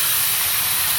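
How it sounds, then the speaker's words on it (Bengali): Marinated chicken dropped into a hot, spiced pan while a curry with fried spice mix cooks, giving a loud, steady, hissing sizzle that holds evenly throughout, close up, with no talking. "এবার এর মধ্যে দিয়ে দেবো আমি ম্যারিনেট করে রাখা এই যে চিকেন"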